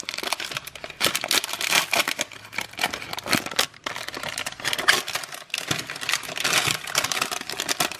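Crinkly plastic packaging of a frozen plant-based bean, cheese and rice burrito being torn and opened nearby, a steady run of crackling and rustling bursts with brief pauses.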